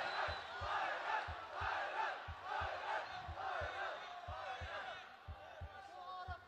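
Home-country crowd roaring at a ONE Championship MMA bout in China featuring Kairat Akhmetov, a steady loud swell of voices with a regular rhythmic thumping beneath, fading slightly near the end.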